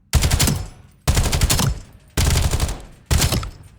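Rapid automatic gunfire from a meta weapon in Black Ops 7, four loud sustained bursts of about a second each separated by short pauses, close and dense, with no talk.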